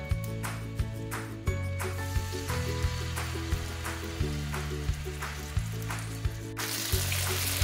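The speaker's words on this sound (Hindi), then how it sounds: "अब चिकन को फ्राई करते हैं" Marinated chicken fries in a pan with a continuous crackling sizzle, heard under steady background music with a repeating beat.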